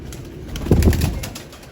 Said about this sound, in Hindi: ये खुद के बनाए हुए कबूतर है अपने